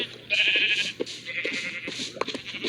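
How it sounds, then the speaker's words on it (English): A Minecraft sheep bleats repeatedly as it burns on a campfire, with several close, nasal cries in quick succession mixed with soft crackling and hurt sounds. "the sheep runs around and then very quickly finds itself dying from burning to death"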